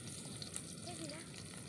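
Garlic, onion and tomato sautéing in a pan, giving a quiet, even sizzle with small pops and light stirring, steady and close.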